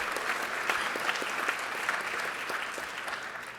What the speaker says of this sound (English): if we could just give them another round of applause.